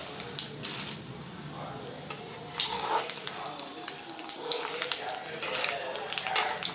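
Mustard seeds, urad dal and chana dal splatter in hot oil, a steady sizzle broken by frequent sharp pops that grow busier over the stretch, close and moderately loud with no talking.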